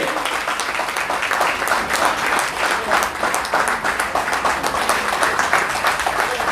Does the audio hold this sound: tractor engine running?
no